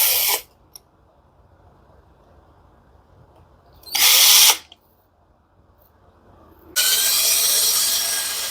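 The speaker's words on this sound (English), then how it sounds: "I'm going to drill this one." Drilling out a lock on a Hoover dryer with a power drill: three loud close bursts of whining drilling separated by quiet pauses, the last burst the longest.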